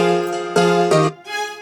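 Kontakt plugin strings sound in short sustained chord swells, with two or three full, bright stabs followed by a softer held tone, close and loud, with no talking.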